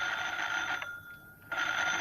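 A telephone rings in a single sustained electronic trill that cuts off briefly in the middle and then resumes, loud and close, with no voices.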